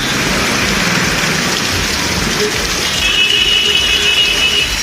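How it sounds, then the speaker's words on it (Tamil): Moderate rain falls steadily around a town in Tamil Nadu, a dense, loud, continuous hiss of drops close by, with a faint mechanical whine creeping in toward the end and no one speaking. "சீர்காழி சுற்றுவட்டார பகுதிகளில் மிதமான மழை பெய்தது"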